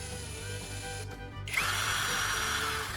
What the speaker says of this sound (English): I'll insert the battery core into the drill head.